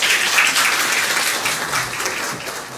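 An audience bursts into applause after a poetry recitation at a trilingual poets' gathering, steady crowded clapping that holds strong and then slowly thins toward the end.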